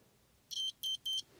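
Three short, high electronic beeps in quick succession from a multimeter continuity test on Renault Clio 3 power window wiring, clear and close against a quiet background.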